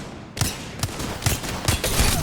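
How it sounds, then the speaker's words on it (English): Wingman pistol shots in Apex Legends in Skulltown, five sharp reports at roughly even spacing, loud and close over a steady game background. "2 more shots and he's down now"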